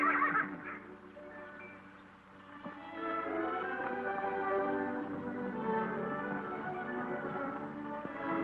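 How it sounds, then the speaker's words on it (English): A horse on a ranch whinnies loudly at the start and then falls quieter, with a rough, uneven tone that carries on through the rest of the clip. "The most beautiful horses I've ever seen on any ranch."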